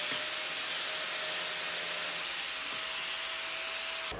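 Welds on a car part are sanded down with a power tool, a steady loud abrasive whir and hiss that runs continuously before cutting off abruptly at the end.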